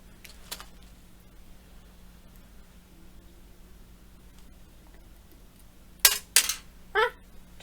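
A small screw drops onto a hard surface while a PC is being assembled, giving two bright metallic clinks close together and a third a moment later, after a quiet stretch with faint handling noise.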